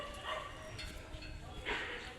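A dog barks outdoors in a Gujarati village: two or three short, moderately distant barks over steady background noise, with no clear talk.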